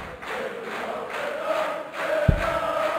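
A crowd fills a darts arena at the Marathon Hotel in Berlin with a continuous murmur and swelling chatter, and a brief thump lands near the end.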